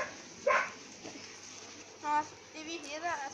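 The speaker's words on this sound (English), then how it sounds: "That's my dog barking." A dog barks a few times at a distance, faint short yips mixed with a voice and outdoor background near rocks and plants.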